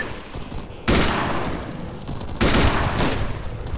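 Rapid machine gun fire in a military shooter game, with dense bursts that swell loudly twice and a steady crackle of distant shooting in between.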